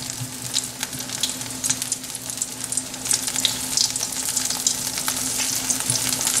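Marinated soya chunks frying steadily in hot oil, a dense continuous sizzle with crackling pops and occasional stirring, close and fairly loud throughout, no voices.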